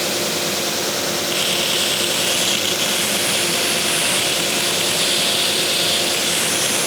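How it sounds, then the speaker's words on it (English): A belt sander runs steadily on bandsawn wood, smoothing the edge to a line under light pressure. It gives a loud, continuous broadband whir and hiss that holds for the full length with no pauses and no talk. "So all I'm going to do is I'm going to smooth this out to the line."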